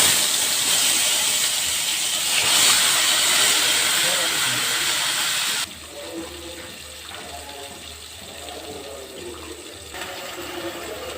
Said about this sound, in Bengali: মাছটাকে ভেজে নিচ্ছি।